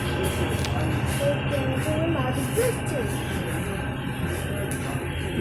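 A train stands at a railway platform, its steady low rumble and hiss filling the scene with faint higher squeals and clatter, loud and continuous throughout.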